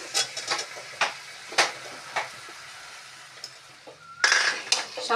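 Whole jackfruit pieces tip into a hot pan with garlic cloves and fry, giving a steady hiss punctuated by stirring clinks and scrapes, then a louder sizzling burst near the end.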